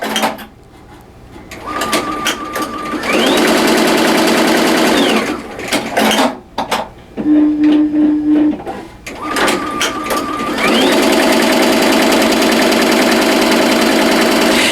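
A Tajima Sai multi-needle embroidery machine stitching a sketch design, its loud rapid mechanical whir running steadily, pausing briefly with clicks and a hum midway, then starting up and stitching again.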